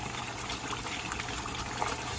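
Water gushes steadily into a pot of seasoned curry goat meat with onion, pimento grains and thyme, a continuous close pouring wash with no talk.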